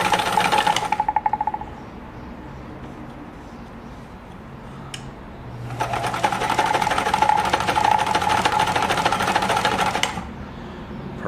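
A Kenmore 1341 sewing machine sews a stretch zigzag stitch in two bursts of rapid, even mechanical chatter, a short one at the start and a longer run later, separated by a quiet pause, close and loud.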